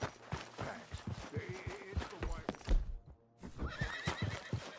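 A horse in Red Dead whinnies and snorts amid clopping hooves, with a person speaking over the animal sounds.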